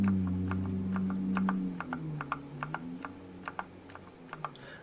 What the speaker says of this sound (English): Just a very smooth linear action until you hit the bottom, just like that.